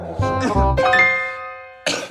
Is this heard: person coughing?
yes